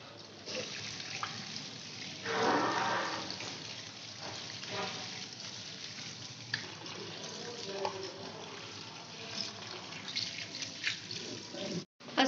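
Boiled macaroni drains through a kitchen strainer as a soft, continuous rush of pouring water with faint splashes, followed by clinks and handling noises near the end.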